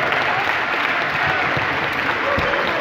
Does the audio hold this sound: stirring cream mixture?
no